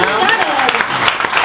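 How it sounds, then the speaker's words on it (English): Applause at a Hurricane Sandy relief benefit concert at Prohibition in New York, a loud burst of dense clapping from a close crowd, sustained across the short moment with some voices mixed in. "So let's just give them a round of applause."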